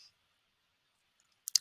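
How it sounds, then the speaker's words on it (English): A computer mouse clicks on a record button: two quick, crisp clicks close together at the end of an otherwise near-silent stretch. "show them by clicking the record button."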